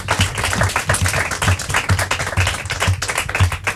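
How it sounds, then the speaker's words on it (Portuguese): Applause from a quiz show audience after a team scores in a Portuguese school knowledge contest, dense steady clapping with rhythmic low thumps running throughout, loud and close. "Palmas!"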